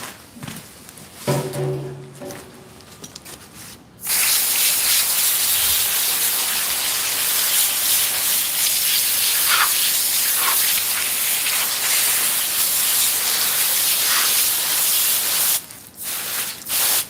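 A water hose sprays steadily onto a pig carcass during butchering, a loud continuous hiss lasting about twelve seconds before cutting off, with quieter handling sounds before it.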